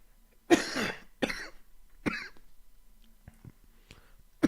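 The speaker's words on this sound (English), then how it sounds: "Coughing like that" Several separate harsh coughs and throat-clearing bursts come close up, spaced out over a few seconds with quiet gaps between them.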